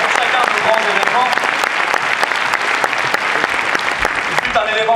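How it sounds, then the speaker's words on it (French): A hall audience gives dense, steady applause at a political congress, the sound loud and sustained throughout, with scattered whoops and voices rising over it. "vous pouvez applaudir très chaleureusement aussi pour l'animation qui réalise aujourd'hui"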